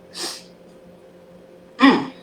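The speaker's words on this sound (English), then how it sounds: "Oh, I got to sneeze." A single person sneezes twice, a short sharp burst followed about a second and a half later by a louder, fuller sneeze, close and clear in a quiet kitchen.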